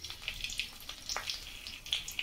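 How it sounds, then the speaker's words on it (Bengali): Slit green chillies, cinnamon and cardamom spit and crackle in hot oil in a pan, a soft, quiet sizzle with scattered sharp pops throughout, no talk. "দুটো কাঁচা লঙ্কা চেরা দিয়ে দিচ্ছি।"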